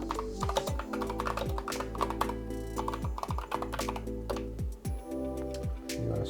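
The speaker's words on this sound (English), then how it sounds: "You're gonna type in wet area waterproofing." Rapid keystrokes on a computer keyboard while a search term for wet area waterproofing is entered, a close, steady burst of clicks with short pauses, continuing for several seconds with no talking.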